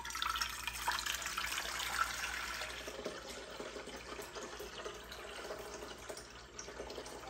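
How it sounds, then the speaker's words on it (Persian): Water poured gradually into a cooking pot while making a cold-season soup, a steady soft splashing and running stream that continues for several seconds and tapers slightly toward the end, with no talk. "اولین کاری که میکنیم آب به تدریج اضافه میکنیم"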